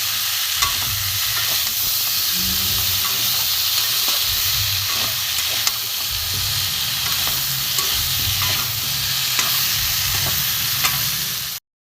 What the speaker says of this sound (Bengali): এটা ভালো করে কষিয়ে নেব।